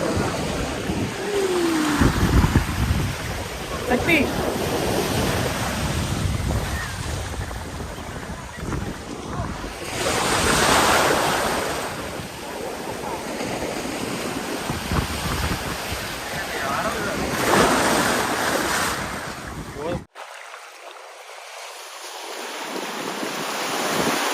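Sea waves roll and wash onto the shore beside the Tiruchendur temple, a continuous surging roar that swells every few seconds, mixed with heavy wind buffeting the microphone.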